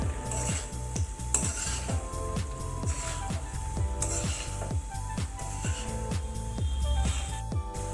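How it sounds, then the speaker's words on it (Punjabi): A spoon stirs eggplant and potato curry in a pan. Metallic clinks and scrapes repeat in a quick, fairly even rhythm, close and alone with no talk. "ਮਿਕਸ ਕਰ ਦਵਾਂਗੇ ਬੈਂਗਣ ਆਲੂ ਪਾ ਕੇ"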